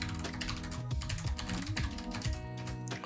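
Keystrokes on a computer keyboard, a steady stream of close typing clicks under a continuous bed of background music, with no speech.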